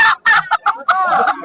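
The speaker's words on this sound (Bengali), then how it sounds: "এখানে আছে অনেকগুলো মোরগ।" Roosters at a poultry market give loud, close, clucking calls in several short bursts followed by a longer drawn-out call, with no other sound between them.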